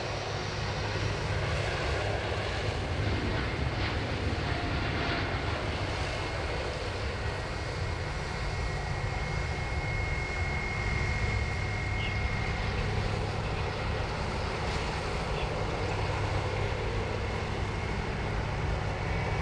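A Jetstar jet airliner, sharklet-equipped and in revised livery, takes off from Sydney Airport with a steady, moderately distant engine roar and low rumble that holds throughout, with no voices.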